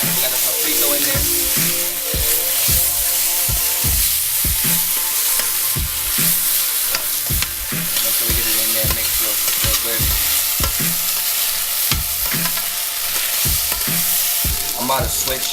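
Sofrito of peppers, onions, garlic, celery and oregano sizzles loudly in a stew pot, with a steady bed of frying hiss and regular sharp knocks of a utensil stirring against the pot, no voices.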